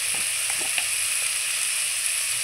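Spices with turmeric frying in a pan for a fish curry, a bright, even hiss with a few faint stirring taps, close and steady with no talk.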